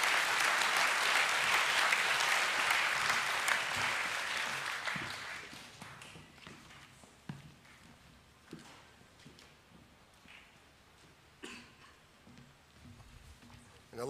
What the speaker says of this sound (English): Please affirm the Year 11 Academic A+ winners with a round of applause.